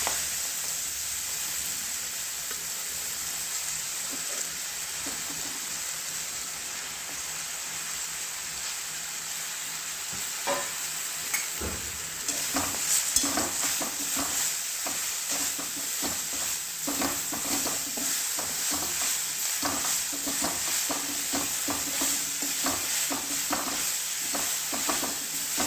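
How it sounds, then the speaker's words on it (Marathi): Chopped ambat chuka greens hit a hot spiced tempering with red chilli powder and kala masala, then sizzle and fry steadily while being stirred. The hiss grows louder partway through, with soft scraping taps from the stirring and no talk. "लाल तिखट, काळा मसाला आणि ही जी चिरून ठेवली होती आपण भाजी ती फोडणीला टाकायची."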